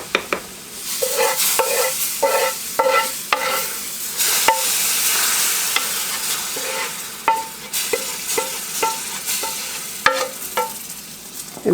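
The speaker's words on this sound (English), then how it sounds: "it's going to sizzle and hiss" Loud, steady sizzling and hissing of chicken gumbo ingredients frying in a hot pot, with repeated scraping stirs throughout.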